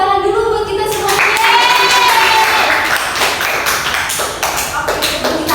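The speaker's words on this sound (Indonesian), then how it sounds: "Tepuk tangan dulu buat kita semuanya" Students in an elementary civics class clap together at the end of a peer-teaching lesson. A voice speaks at first, then a dense patter of hand claps runs steadily under the talk until the end.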